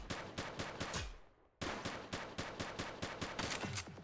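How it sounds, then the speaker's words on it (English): Video game gunfire cracks out in rapid bursts of sharp, close shots. A brief lull near the middle is followed by more volleys firing in quick succession. "She's shooting!"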